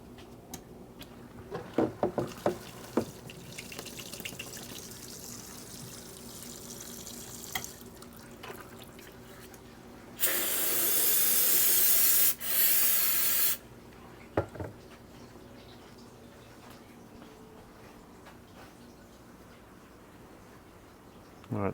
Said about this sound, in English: I'm going to put this in the parts washer and clean it up.